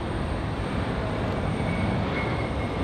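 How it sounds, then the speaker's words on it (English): A Cessna Citation business jet rolls along the runway at Raleigh-Durham airport after an emergency landing over a right landing gear concern, its engines a steady, loud broadband roar throughout. "So the Cessna citation getting back underway here after the emergency landing, after the concern of the right landing gear."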